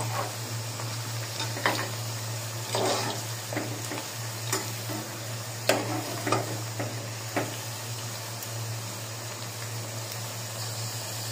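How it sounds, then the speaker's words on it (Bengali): Potato french fries fry in hot oil with a constant close sizzle, broken by intermittent scraping strokes as a utensil stirs them around the pan. "এখন আমি সবগুলো সুন্দর করে ভেজে নিব"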